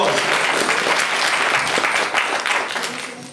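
Loud, dense applause from an audience at a Durga Puja celebration, steady clapping throughout that eases slightly at the very end.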